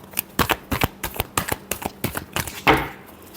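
Tarot cards are shuffled by hand in a quick run of crisp riffling bursts, about a dozen sharp flutters close up, finishing with a longer louder shuffle.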